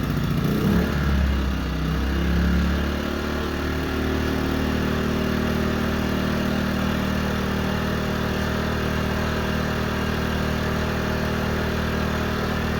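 A portable generator's engine runs steadily after a pull start, a loud, continuous mid-pitched hum with a rougher burst in the first few seconds as it catches, then holding even throughout.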